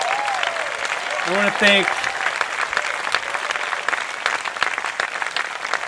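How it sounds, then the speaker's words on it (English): Audience applause at the Square Lake Film & Music Festival, a steady wash of many hands clapping that fills the whole stretch, with a voice speaking briefly over it partway through. "So if you could give them a round of applause."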